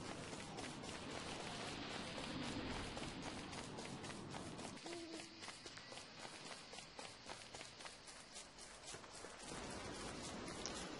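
Rain falls in the video game Don't Starve as a dense, steady patter of drops with a brief lull midway, faint and constant, with no voices.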